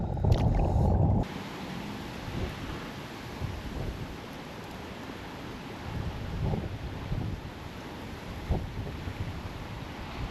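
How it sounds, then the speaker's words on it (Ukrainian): Strong wind on the Dnipro River during a summer fishing trip roars steadily across an open microphone, a constant low rumble with gusty swells and occasional thumps, no voices. "Вітер розгулявся просто нереальний, він став ще сильнішим."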